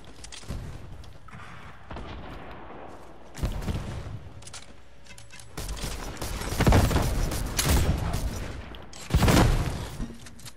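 Gunfire from a flintlock weapon in the video game Fortnite, with several loud booming shots and bursts of rapid fire over a steady background of in-game action.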